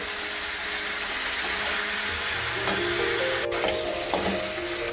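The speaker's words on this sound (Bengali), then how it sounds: "এবারে আমি আরো কিছুটা সময় একটু কষিয়ে নেব" Mutton and fried potato pieces sautéing in a pan for biryani, giving a continuous moderate sizzle with light stirring scrapes and a sharp brief clatter partway through.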